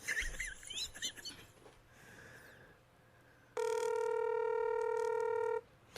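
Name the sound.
telephone dialing a cell phone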